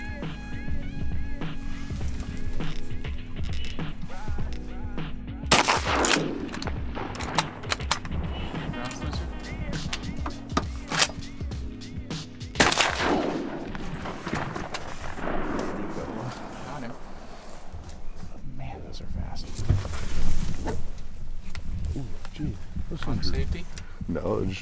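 Several loud shotgun blasts at ducks boom across a long stretch, spaced irregularly, with people talking throughout and outdoor background noise.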